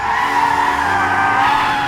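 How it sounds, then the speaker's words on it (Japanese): A car's tires squeal loudly in one continuous, harsh screech lasting about two seconds as it swings sharply into a sudden U-turn. "とっさに U ターンして戻る"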